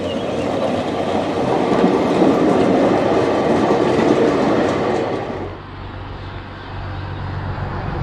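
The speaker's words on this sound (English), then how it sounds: "Oh, here's the tram now, look." A tram rolls past in the German spa town of Bad Schandau, a loud, close rumble with rhythmic wheel clatter that fades after about five seconds, leaving a low hum.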